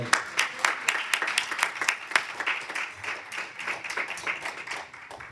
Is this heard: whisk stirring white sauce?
no